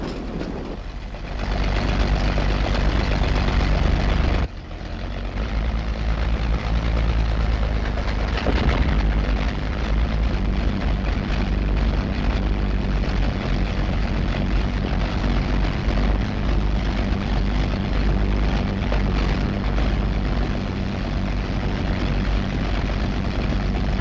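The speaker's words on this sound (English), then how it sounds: "Engines throb and leap to life." Bomber aircraft engines cough into life and build to a loud, continuous propeller drone and throb that runs steadily for over twenty seconds, heard alone without talking.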